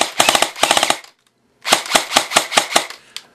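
A Samson G4 airsoft gun fires on full auto in two sharp, rapid bursts of loud snapping shots, separated by a brief silence, with no talk over them.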